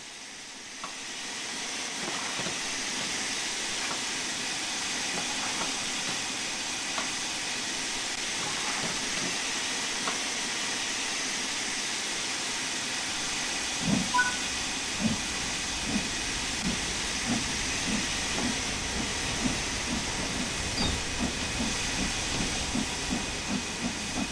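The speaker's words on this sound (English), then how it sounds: "Slowly open the regulator to apply some power." A steam locomotive in Train Sim World 5 hisses steadily as its regulator opens, then rhythmic chuffs build in the second half as it begins moving, all without speech.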